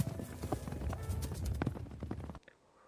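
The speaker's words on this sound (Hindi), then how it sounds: "घोड़ा वायु वेग से उड़ने लगा।" Horse hooves clattering in a fast, busy run of clip-clop beats, fairly close and loud, then stopping abruptly into near silence.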